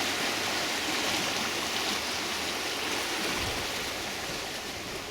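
Floodwater roars through Poway Creek, normally a narrow summer-dry stream now running bank to bank after heavy flooding, making a constant dense rushing wash that stays steady and loud throughout with no voices.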